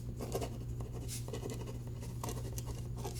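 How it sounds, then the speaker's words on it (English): A pen or pencil scratches out a short note in quiet, close, continuous strokes over a low steady hum. "I will write that down."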